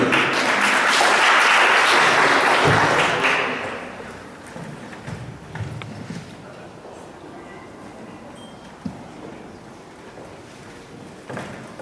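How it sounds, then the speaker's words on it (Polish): Audience applause for contestant Zuzia at an anniversary talent contest in Nowy Staw, a dense, loud burst of clapping for about four seconds that then dies away into scattered thumps and quiet room noise. "Brawa na Zuzię."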